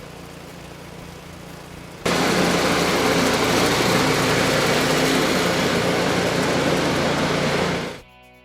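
A Honda HS720 snow thrower engine is heard after a recoil start: it catches abruptly and runs at a loud, steady high-pitched idle for several seconds, then cuts off.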